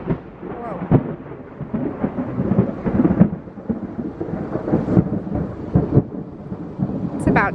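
Thunder rumbles repeatedly over an outdoor patio before rain arrives, with rolling low booms and sharper cracks recurring across the stretch at moderate distance.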